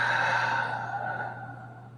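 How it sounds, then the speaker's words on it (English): A long, slow exhale during yoga deep breathing, a soft airy breath that fades gradually over a steady low background hum. "Deep breathing."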